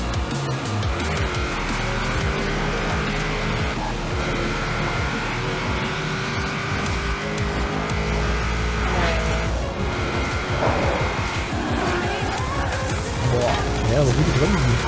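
Car driving in the racing video game Forza Horizon 4, a steady engine drone with gear shifts and passing noise, continuous and fairly loud with a person talking over it.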